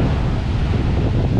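Sea waves washing onto a beach with wind buffeting the microphone, a loud, continuous roar of surf and rushing air with no pauses or voices.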